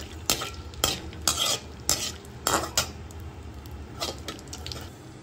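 Cloves, cinnamon and other whole spices tempering in hot ghee in a pan, stirred with a metal spoon: a run of about eight loud, rhythmic scraping strokes over a soft sizzle, close up with no voices.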